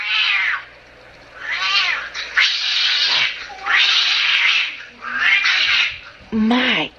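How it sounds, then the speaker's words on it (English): A calico cat meows loudly and repeatedly, close by, with drawn-out, wailing cries separated by short pauses and a sharper final yowl. "Cari, only the calico cat came back down."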